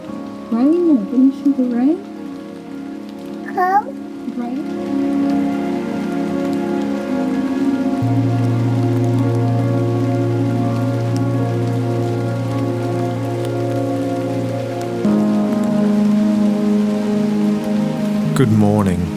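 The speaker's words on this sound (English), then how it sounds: "We woke up to the sound of steady rain and a sky full of clouds." Steady rain patters continuously on a surface in Wanaka, New Zealand, a dense, even hiss with faint low hum underneath and no break.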